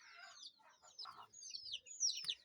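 A free-range Kenyan kienyeji hen sitting on eggs in a hidden nest gives soft, faint, close clucks and murmuring chirps in a loose series.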